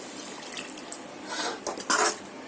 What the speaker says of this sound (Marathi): आता याच्यामध्ये थोडं पाणी टाकते आणि मखाने टाकते